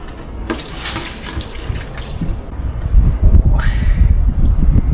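Liquid antifouling paint pours and splashes in a steady rushing stream, growing heavier and louder partway through, close to the microphone.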